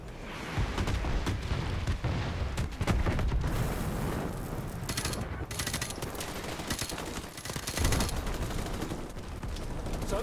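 Sniper rifle and machine gun fire in Call of Duty Modern Warfare Remastered during a night mission: continuous loud bursts of automatic gunfire mixed with heavy blasts and explosions, steady and dense throughout.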